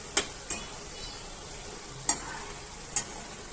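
A spoon scrapes through a cauliflower and potato curry in a pan, leaving four sharp, close clinks spaced irregularly over a soft background hiss of cooking.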